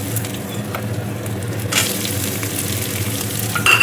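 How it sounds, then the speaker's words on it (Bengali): Onion added to hot oil with browned garlic sizzles steadily in a pan, a continuous close frying hiss that swells around the middle and ends with a few sharper crackles. "এখন আমি পেঁয়াজটা দিয়ে দিচ্ছি।"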